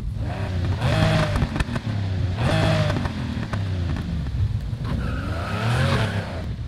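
A Lamborghini Countach in the racing game Need for Speed Heat revs hard and loud, its engine note rising and falling in repeated surges with tire noise, close and continuous with no talking.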